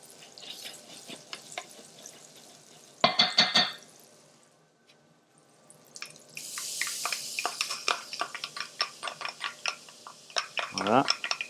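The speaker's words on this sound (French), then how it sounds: "Moi j'aime bien, c'est faire suer un tout petit peu mes échalotes" Shallots sweat in butter in a pan, giving a soft crackling sizzle with stirring scrapes, a sharp burst of frying early on and a denser sizzle later. A voice talks over it.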